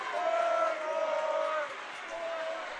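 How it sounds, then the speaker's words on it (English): A crowd roars and cheers in a packed high school gym during a girls basketball game between Mallard Creek and North Meck, a sustained wash of noise with voices rising above it. "This crowd is back into it as well."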